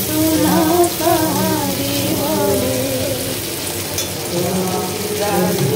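Chow mein sizzles and crackles as it is stir-fried with carrot, onion and capsicum, a busy steady frying hiss with scraping stirs, while music with a singing voice plays close by throughout.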